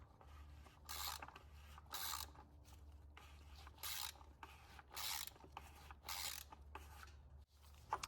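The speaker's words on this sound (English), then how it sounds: "start with your normal ratchet just to get it a little tight" A hand ratchet tightens the oil filter housing on a 2021 Audi S5 (B9), giving about six evenly spaced bursts of rapid clicking, roughly one per second, close up and fairly quiet.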